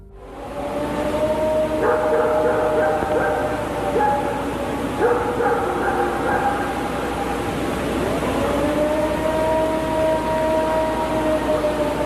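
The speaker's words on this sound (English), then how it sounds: "a long, eerie howl shattered the silence" A long, eerie animal howl recorded in the Appalachian wilds, drawn-out wavering tones rising and repeating over steady background noise, with a pitch shift along the way.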